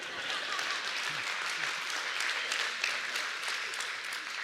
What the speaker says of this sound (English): Well, either clap or don't.